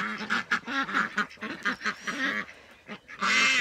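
Young Blanc de l'Allier ducks and Indian Runner ducks, a male and three females, quack and honk in a busy, overlapping chorus, close and loud throughout.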